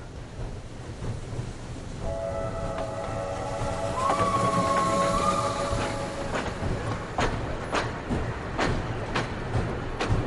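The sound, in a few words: steam train running on rails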